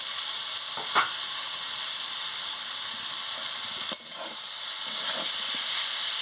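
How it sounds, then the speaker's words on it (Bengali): Potatoes and papaya drop into spice paste frying in a pan, producing a steady sizzle with a few brief clattering bumps from stirring. No voices. "আমি আলু আর পেঁপেটা দিয়ে দিচ্ছি"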